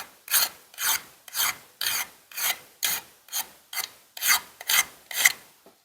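Something scrapes back and forth across a lacquered wooden bookshelf divider in about a dozen rhythmic raspy strokes, close and evenly paced.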